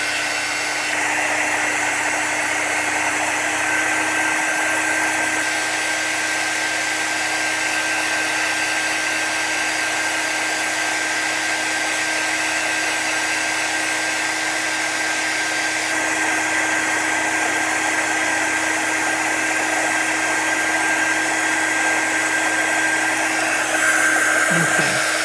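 A hair dryer blows steadily on chalk paint freshly brushed onto citrus-themed coasters, a loud, continuous whine lasting the whole stretch with no talking.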